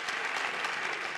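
A comedy-show audience applauding, with dense, steady clapping from a crowd at middle distance for about a second, no voices over it.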